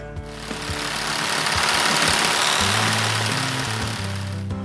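Power saw cutting through two wooden boards screwed together, a loud, steady whining buzz that holds for several seconds with shifting tone as the blade works along the line.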